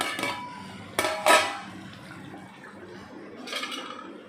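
Spoon stirring egg masala gravy in a pan: a few sharp metallic scrapes and clinks against the pan, close and fairly loud, with quieter rustling stirs between.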